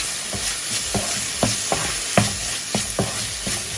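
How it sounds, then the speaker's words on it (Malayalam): A spoon scrapes and stirs chilli chickpea masala with chilli sauce in a sizzling pan, with about a dozen sharp, rhythmic strokes over a continuous close frying hiss. "ചില്ലി സോസ് കൂടെ ഇട്ടതിന് ശേഷം നന്നായിട്ട് മിക്സ് ചെയ്യാം."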